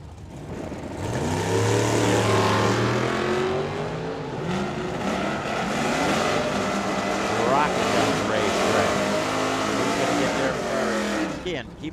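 Drag race launch with a 1985 pickup and a 1976 Dodge Dart with a 340 engine pulling away side by side, a loud sustained engine roar with rising revs, mixed with a track announcer talking throughout.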